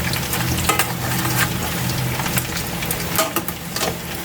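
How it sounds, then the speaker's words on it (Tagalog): Continuous sizzling of small anchovies frying in hot oil, a steady crackle with occasional sharper pops, close by and with no talking. "Tuloy lang natin yung kaili pag prito."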